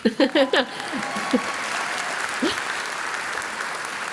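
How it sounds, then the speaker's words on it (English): Sustained applause from an audience at a commencement ceremony, steady and fairly loud, after a brief burst of speech at the very start. "You can clap, it's okay."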